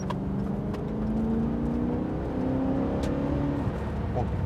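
A BMW E34 540i sedan with a V8 engine pulling hard under acceleration from inside the cabin, a steady droning engine note slowly rising in pitch, with faint tire and road noise beneath.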